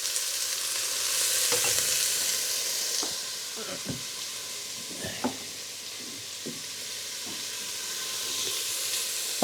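Chopped onions soften in a pot for split pea and ham soup, giving a soft, continuous sizzle and hiss, with a few scattered clinks and scrapes of stirring.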